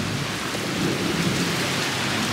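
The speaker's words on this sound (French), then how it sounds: "Mais l'orage est très surprenant quand même, le bruit." Heavy rain pours steadily during a thunderstorm in Tokyo while thunder rumbles low and continuous underneath, a loud, enveloping storm with no voices.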